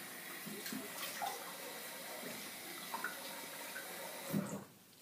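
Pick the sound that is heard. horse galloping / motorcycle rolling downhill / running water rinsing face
running water rinsing face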